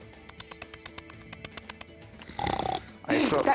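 A voice imitates snoring in two loud, rough, rasping bursts near the end, after a run of evenly spaced light clicks.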